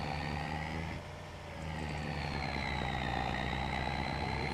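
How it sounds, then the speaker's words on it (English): Truck engine idling in the farming game Farming Simulator 25, a steady low diesel rumble with a faint whine above it, close and constant with a slight dip in level early on, no talk. "This truck sounds good, if nothing else"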